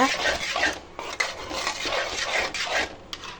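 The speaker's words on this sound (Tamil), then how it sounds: "இப்போ நல்லா மிக்ஸ் பண்ணிக்கோங்க." A utensil stirring white sauce made with milk and salt in a pan, giving close, repeated scraping and rubbing strokes against the pan in an uneven rhythm.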